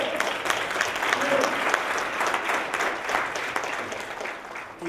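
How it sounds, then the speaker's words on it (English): Audience applause at an Essex County College lecture for guest speaker Ras Baraka, mayor of Newark, sustained rippling clapping from a large crowd that swells and then eases slightly toward the end. "Let's give him a round of applause."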